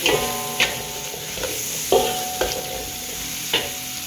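Ikan bilis (anchovies) fry in a pan of leftover cooking oil, a steady sizzle broken by several sharp scraping stirs with a utensil, close and fairly loud, with no talking.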